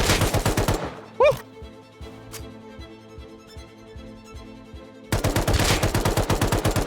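Rapid LR assault rifle bursts in Rust, loud and close, open the scene, give way to quieter ambient game sound with a brief sweeping tone, then return as another sustained volley of rapid shots.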